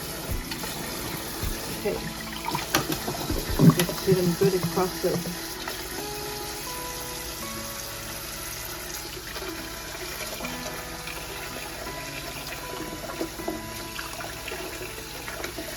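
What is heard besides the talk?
running tap water while peeling boiled eggs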